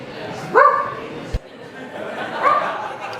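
A dog gives a couple of short barks over a murmur of background chatter, with a sharp knock between them.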